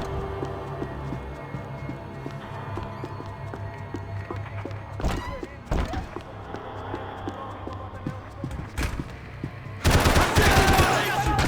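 Gunfire in Max Payne 3, with sharp shots and rapid bursts popping repeatedly, plus a few louder cracks and a final intense burst, under a steady game background.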